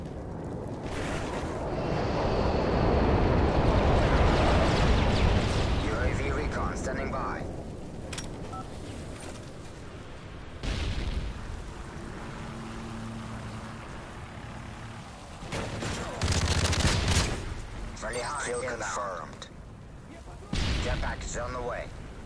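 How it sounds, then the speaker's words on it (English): Bombs from a stealth airstrike raid in a video game explode in heavy, rumbling booms, a long loud blast followed by several shorter bursts, with game voices talking in between. "Stealth airstrike raid"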